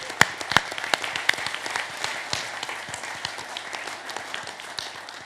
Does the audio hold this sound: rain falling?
no